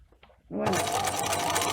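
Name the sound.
sewing machine stitching fabric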